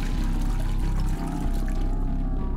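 Water pours steadily into a water tank in the video game The Happyhills Homicide, a continuous loud gushing flow that runs alone for a couple of seconds.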